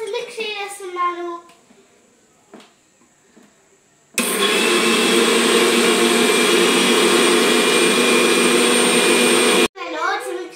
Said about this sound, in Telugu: ఇప్పుడు నేను ఓట్స్ మిక్సీ చేస్తున్నాను.